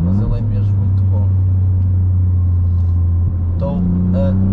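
A Toyota GR Yaris engine held above 3000 rpm on a test road gives a loud, steady close-up drone throughout, with someone talking over it.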